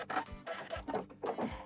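Sewing machine back stitching while mending jeans: a close, steady whirring hum with rhythmic stitching pulses about three times a second, alone without talk.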